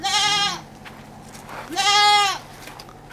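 A large breeding goat bleats twice close by, two loud wavering cries about a second apart.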